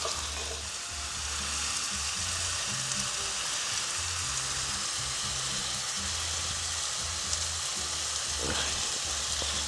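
Lamb with tomato and tomato paste fries in a pan with a steady, even sizzle, close and continuous, with faint stirring scrapes underneath.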